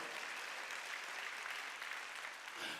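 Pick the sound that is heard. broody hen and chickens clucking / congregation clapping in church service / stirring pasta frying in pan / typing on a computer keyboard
congregation clapping in church service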